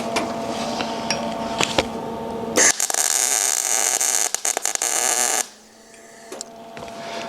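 A tack weld joins a steel piece to a custom-welded 90 degree block: one harsh, crackling arc burst of about three seconds between quieter workshop sounds.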